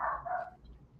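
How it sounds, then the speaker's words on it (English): A dog barks once, close and fairly loud during a thunderstorm, the short bark tapering into a faint whimper against a quiet room. "there goes my dog"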